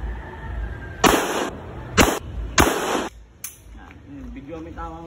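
Three sharp gunshots crack out in quick succession at an indoor shooting range in Marikina, loud and close, followed by a fainter fourth report and a voice calling out afterward.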